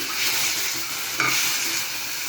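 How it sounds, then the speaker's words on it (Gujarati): Tomato and onion sautéing in a pan, giving a steady close hiss of frying with one brief stir or scrape midway, and no voices. "ટોમેટો અને ઓનિયન એકદમ સરસ રીતે સંતળાઈ જાય છે"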